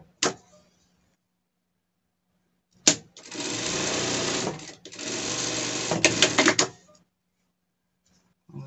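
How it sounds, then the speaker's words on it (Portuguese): A sewing machine runs in several steady bursts while stitching the strap of a doll's dress, loud and close, with short pauses between runs and no talking. "Passar uma costura aqui e aqui."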